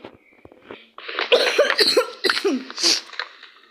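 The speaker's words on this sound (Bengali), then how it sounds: "কাশি আসতেছে, দেখতেছো কত জ্বর" A feverish person coughs repeatedly, several harsh, close coughs in quick succession after a quieter start, with throaty bursts and brief gaps between them.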